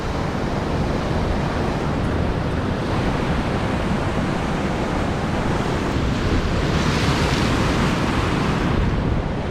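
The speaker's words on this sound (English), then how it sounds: "Oh no, I'm gonna get splashed with these big waves." Big ocean waves break on an Australian shore, a continuous loud roar of surf with wind noise buffeting the microphone throughout, no voices.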